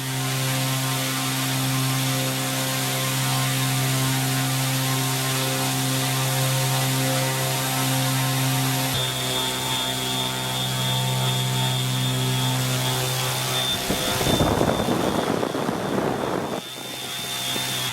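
The motor of a scratch-built STOL-style model plane runs on a test stand with a steady, loud, close drone and a high whine. Near the end a brief rushing burst rises over it.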